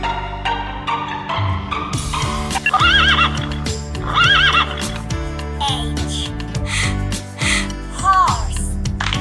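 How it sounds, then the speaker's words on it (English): A horse neighs and whinnies in several loud, close calls, with a musical backing playing underneath. "Horse."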